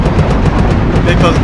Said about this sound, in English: I'm gonna strike them with my machine gun fire and make this ordeal hell.